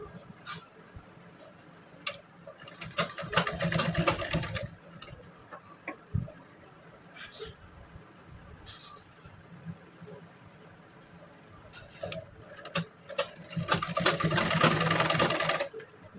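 A sewing machine stitches ready-made lace piping onto a neckline corner in two loud, rapid whirring bursts, with quiet pauses, scattered soft clicks and taps between them.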